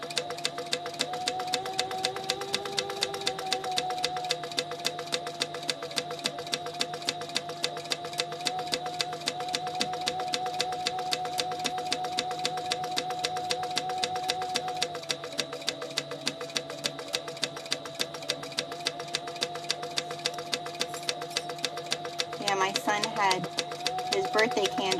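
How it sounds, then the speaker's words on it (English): Sewing machine back stitching, a rapid steady mechanical ticking that runs for about twenty-five seconds at moderate volume, with a person talking over it. "I'm just gonna back stitch here a bit."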